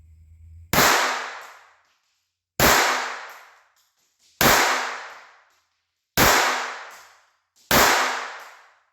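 Five sharp, loud shots from a Walther .22 pistol firing Game Shock ammunition, spaced roughly every one and a half to two seconds, each cracking hard and then ringing off quickly, with no voices between them.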